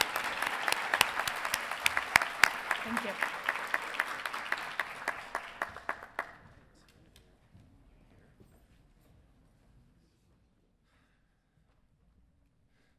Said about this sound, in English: can we just give ourselves a big round of applause?